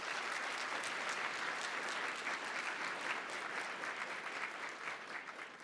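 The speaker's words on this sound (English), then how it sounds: "Give them all a round of applause." An audience at a college's annual convocation honoring excellence gives a sustained round of applause, dense steady clapping from many hands that tapers slightly at the end, heard alone without speech.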